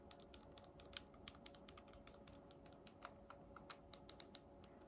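Buttons on a Nintendo Switch Lite being pressed, a fast, irregular string of soft, close plastic clicks, quiet and crisp, with no voices.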